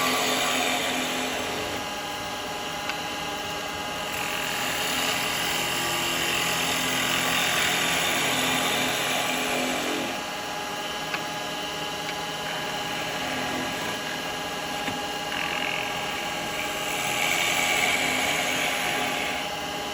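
A woodturning lathe with a steep-grind chisel cutting into seasoned wood for a miniature hat, a constant whirring hum with a hissing shaving noise that swells and fades over several passes.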